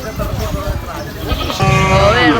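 A goat at a busy cattle market in Kabila, Burichang, Cumilla gives one loud, close, wavering bleat near the end, after people talk amid the crowd noise.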